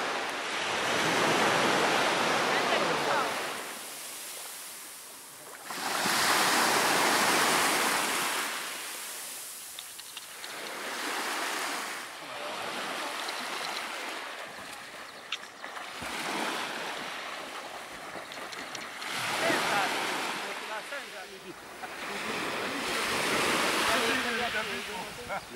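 Sea surf rolls in on the Parga shoreline, broad hissing waves swelling and fading in a slow rhythm roughly every five seconds, fairly close, with occasional faint voices.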